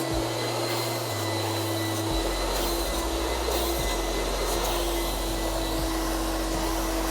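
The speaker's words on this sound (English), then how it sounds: "You start by vacuuming the seats, that is to remove dust." A vacuum cleaner runs close and steady while cleaning furniture seats and pillows. Its high whine holds constant, and the lower motor tone shifts in clear steps as the nozzle moves across the fabric.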